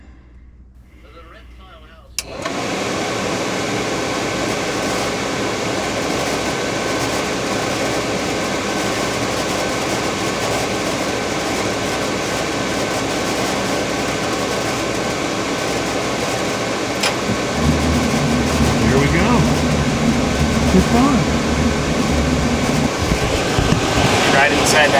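An RV furnace blower fan with a faulty sail switch kicks on abruptly after a brief quiet moment, then runs as a steady, loud whooshing hum that deepens slightly later on while a person speaks.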